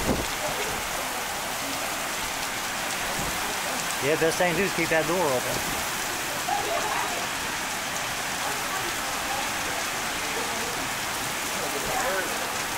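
Heavy rain pours steadily during a summer rainstorm in New Holland, Ohio, a constant close hiss of drops on surfaces running throughout, with someone talking briefly partway through.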